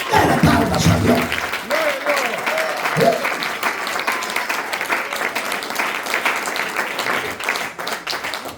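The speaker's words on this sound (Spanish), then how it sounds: "Dale palmas a Dios." Church congregation applauding God during a Spanish-language sermon by the pastor: dense, steady clapping that fills the whole stretch, loud and close, with voices mixed in, led by a brief shout near the start.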